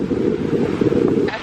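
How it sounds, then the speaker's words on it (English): Strong wind blows outdoors in Florida, buffeting the microphone with a loud, steady low rumble for the full brief moment. "It has gotten so miserably windy in the last like 15 minutes."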